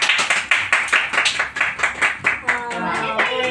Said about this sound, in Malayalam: ആ കൈയടിച്ചു